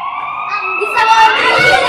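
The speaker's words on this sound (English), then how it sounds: "It's a police car." A recorded police car siren wails loud and close, with steady rising and falling tones that sweep upward and grow fuller toward the end.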